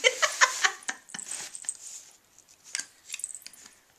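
Scissors cut out a paper shadow box, giving a run of quick close snips at the start and then softer, irregular snipping and paper rustle.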